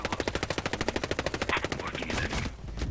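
Enemy automatic gunfire in the video game Ghost Recon Breakpoint rattles in a rapid, even burst of sharp shots. The burst breaks into scattered noise and then fades near the end, with no talk.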